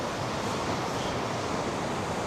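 A river rushes through a gorge near Almaty, heard as steady, close, loud broadband water noise with no talk.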